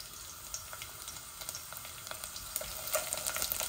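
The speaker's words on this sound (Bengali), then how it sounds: "দেখি আমার তেলগুলা গরম হয়ে গেছে, এখন আমি রসুন দিলাই" Garlic frying in hot oil, a steady, fairly quiet crackling sizzle with small pops scattered through it and occasional stirring.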